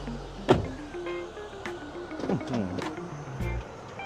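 The electric power seat motor of a Hummer H3 whirs in short runs, a low mechanical hum with clicks and shifts, close by, amid faint cabin background.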